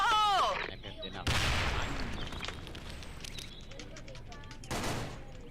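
Gunfire from a shooting video game, with rapid automatic bursts and crackling volleys sounding over a busy game soundscape, while players talk in the background.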